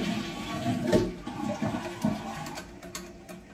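Water rushes into an American Standard toilet tank through the fill valve during installation, a steady, close hiss and gurgle with a few small clicks and knocks.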